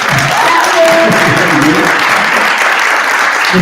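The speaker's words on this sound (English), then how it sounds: "Let's give her a round of applause." An audience at a town hall meeting claps warmly for a presenter, a close, loud burst of applause with some voices mixed in, fading slightly near the end.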